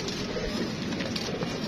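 Pigeons softly cooing at close range, a steady low murmur of several birds, with no talk over it.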